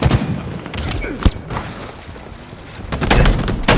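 Covenant sniper rifle fire in a Halo tournament match: a few sharp booming shots, one of them strong and abrupt, stand out over dense game noise and rumbling background effects.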